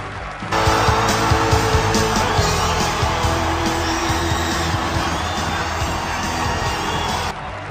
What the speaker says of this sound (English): Wow, great crowd, huh?